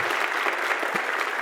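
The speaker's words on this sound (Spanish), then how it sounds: "un aplauso gigante" A live audience at a Latin music and life podcast taping gives a guest a burst of steady, dense clapping, close and full, with faint crowd murmur and a brief voice underneath.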